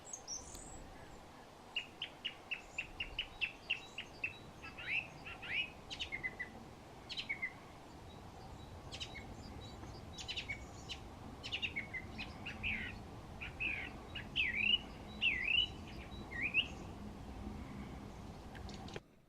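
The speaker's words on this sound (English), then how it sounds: "song thrushes have extremely loud calls, as you can hear there" A song thrush sings from a treetop at a nature reserve in early spring, giving repeated loud, varied phrases of clear whistles and chirps that carry over a soft outdoor background rumble.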